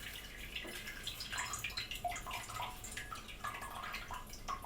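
Water from an overwatered peace lily pot trickling and dripping indoors, a faint, steady run of small irregular drips and splashes throughout, with no talking.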